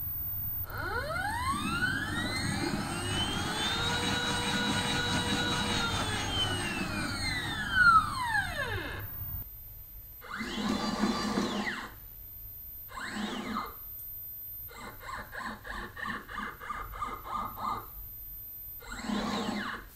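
A stepper-motor-driven rotating spinner rig for a rocket runs under test, first as a steady whine with arcing pitch sweeps, then in short stop-start bursts of motor tone separated by quiet gaps; no one speaks.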